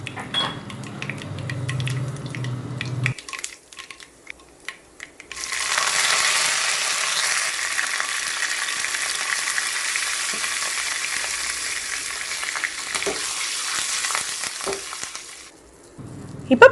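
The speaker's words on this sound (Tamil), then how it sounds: "தாளிக்கிறதுக்கு கடுகு, உளுந்தம்பருப்பு, கருவேப்பிலை, காஞ்ச மிளகாய் சேர்த்துக்கலாம்." Mustard seeds, urad dal, curry leaves and dried chillies tempered in hot oil for kuzhambu, a loud steady hissing sizzle lasting several seconds after some clatter, with faint pops and ticks, close up.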